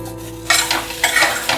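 Already-cooked potatoes with coriander spice powder sautéing in oil for a potato fry, a low sizzle broken by several scraping stirs of a spoon against the pan, close and fairly loud.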